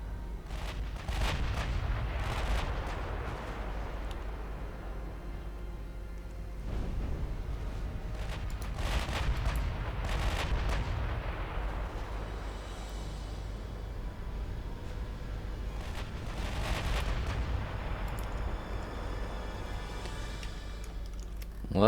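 Battleship guns firing in Ultimate Admiral Dreadnoughts, a German fleet of around 1910 shooting at long range, heard as several deep booming blasts spaced seconds apart over a low rumbling background.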